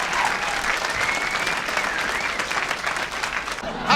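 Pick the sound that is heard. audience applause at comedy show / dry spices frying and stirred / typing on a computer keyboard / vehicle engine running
audience applause at comedy show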